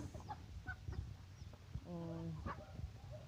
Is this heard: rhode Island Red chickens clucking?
yes